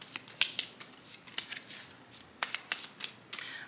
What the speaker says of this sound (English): we're just gonna give her a nice shuffle